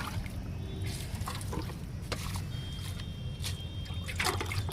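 Rice-washing water being poured onto potted plants makes a soft, continuous trickle and splash over a low background hum, fairly faint and steady, with no one speaking.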